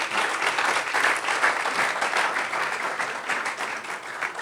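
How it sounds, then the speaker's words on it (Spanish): A church congregation at a conference applauds together, a dense, even wash of many hands clapping that carries on steadily throughout, fairly loud and close, with no voices over it. "Cerramos entonces dándole un aplauso al Señor."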